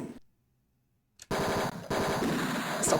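Rapid machine-gun fire from the 1989 computer game Tex Murphy: Mean Streets, a loud continuous burst that starts abruptly after a short silence and keeps rattling with a brief gap midway.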